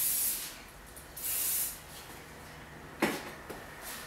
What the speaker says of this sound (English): Once you have curled all the hair, you're going to go through and spray with hairspray.